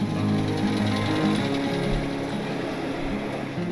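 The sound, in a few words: road construction work, jackhammer-like noise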